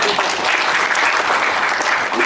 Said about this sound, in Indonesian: Tepuk tangan itu beliau.